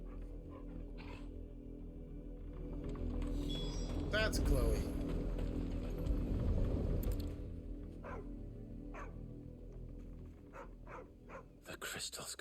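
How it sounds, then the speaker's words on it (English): Dogs bark in a Final Fantasy XVI game scene, with a few sharp yips and barks scattered over ambient game sound while voices talk. "They're barking at Chloe."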